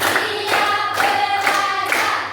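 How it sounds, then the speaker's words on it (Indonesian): A group claps together through a patterned classroom clap routine, bursts of hand claps grouped in rhythmic waves about every half second, close and steady with no talk. "Tepuk 5."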